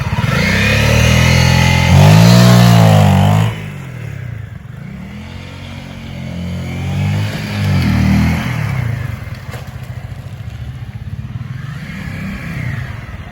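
Motorcycle engine revving hard during a launch from a standstill, a loud close rising roar that drops back to a lower steady drone with smaller surges, no talking.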